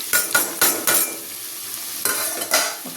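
Beans, capsicum and potato stirred in a hot pan for poha, with quick clattering scrapes of a spoon against metal in bursts over a light background sizzle, then a short pause before more strokes.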